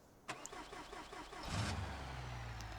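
A car engine in a video game cranks and catches, then settles into a steady mid-pitched idle.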